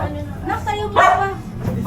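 A dog barks a few times in quick, uneven yips and woofs close by, with a short whimpering edge, while people talk nearby.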